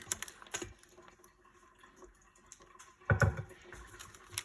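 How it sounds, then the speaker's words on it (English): A raw beef tongue package being cut open in a home kitchen, crinkly plastic rustles and clicks followed by a louder crackling tear near the end, close and fairly quiet with no voices. "So I will cut the package open."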